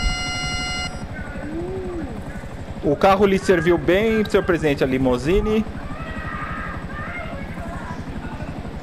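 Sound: helicopter in video game Grand Theft Auto V

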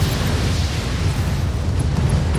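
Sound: mech weapons firing in the video game Battletech

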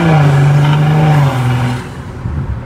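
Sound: Stage 2 tuned BMW M340i engine revving

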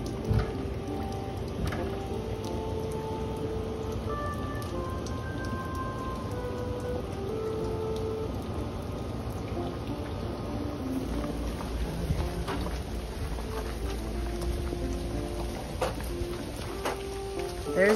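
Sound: rain falling outdoors

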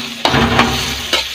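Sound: stirring hotdog with onions and tomatoes in a pan

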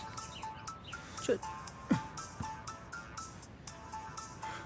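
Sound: phone ringtone

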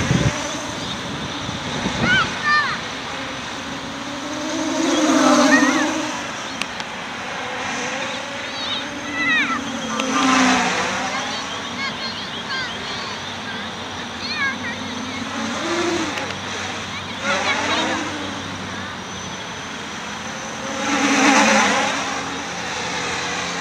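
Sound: Armattan quadcopter motors during aerobatic flight

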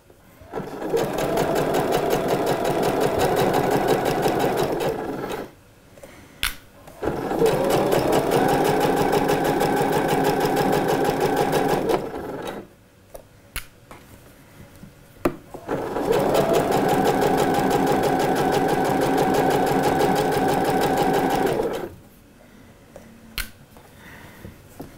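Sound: sewing machine stitching a seam slowly

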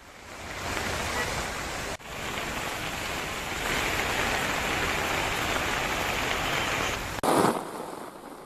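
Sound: heavy rain with water flowing on roads

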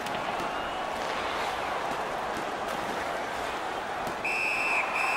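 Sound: referee whistle in NHL 19 video game

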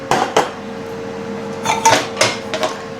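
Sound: metal tiffin food containers clattering while being handled

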